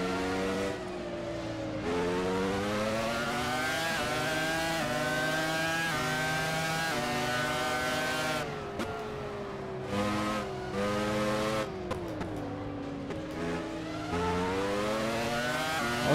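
Formula 1 cars from 2004 race at the Nürburgring in the video game Assetto Corsa, among them a McLaren and a Williams. A close, high-pitched engine wail climbs and drops with each gear change, running almost without a break.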